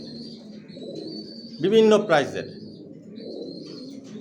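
Several pigeons coo continuously in a loft, a low warbling background beneath someone speaking loudly in the middle, with the cooing running on alone before and after.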